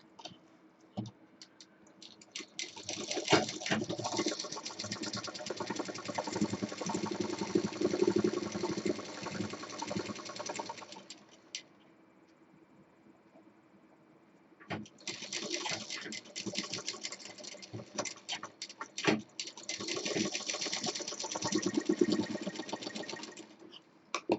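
Sewing machine stitching the sides of a Rajasthani jhola bag after a zip is fitted, running in two long rattling bursts with a quiet pause between them, close and clear.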